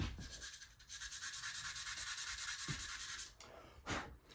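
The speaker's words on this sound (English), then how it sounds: "So I'm using sandpaper, and I sand in one direction, left to right" Sandpaper rubbed side to side across a wooden friction turkey call, a close, steady run of rasping strokes in a quick even rhythm, with a couple of separate scrapes at the end and no talking.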